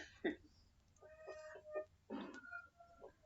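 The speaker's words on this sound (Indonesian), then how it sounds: "Suara ayam siapa itu ya?" A chicken gives a few short, scattered clucks and squawks. The calls sound faint and somewhat distant, with quiet gaps between them.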